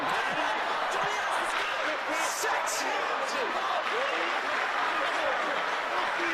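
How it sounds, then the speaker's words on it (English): A rugby crowd of Nudgee College school supporters cheers at a Brisbane GPS school match against State High, a steady broadband roar that runs without a break, with scattered shouts and claps mixed into it. "Nudgee fans in the crowd cheering on their school"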